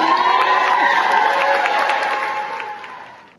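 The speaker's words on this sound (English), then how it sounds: "You can hear the dozens of school employees applauding there after learning about the county's decision." Dozens of Durham school employees applaud and cheer after county commissioners approve the budget, a dense burst of clapping with whoops that holds steady and then fades away toward the end.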